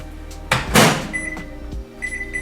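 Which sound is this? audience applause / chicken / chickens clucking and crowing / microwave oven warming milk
microwave oven warming milk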